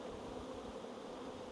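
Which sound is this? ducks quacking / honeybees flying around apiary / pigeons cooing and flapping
honeybees flying around apiary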